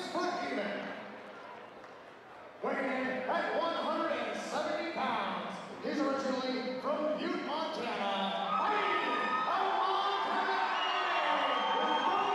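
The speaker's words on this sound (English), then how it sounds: "So this crowd is going to be rocking and rolling in here." Crowd at a cage fight for Joey Murray versus Monty Klistoff, cheering and shouting loudly and continuously as the noise swells, with commentators talking over it.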